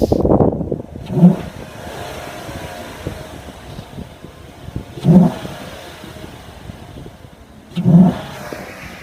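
A 2014 Chevy Silverado pickup engine with a cold air intake idles with a deep rumble and is revved three times, each rev a throaty surge that quickly falls back to idle.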